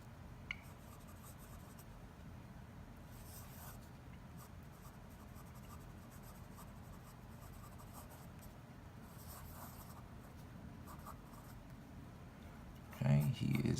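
An Edison Menlo fountain pen scratches softly across paper in continuous faint strokes under steady low background hiss, quiet and close, ending with a brief louder bump.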